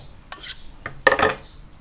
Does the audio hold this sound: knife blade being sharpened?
yes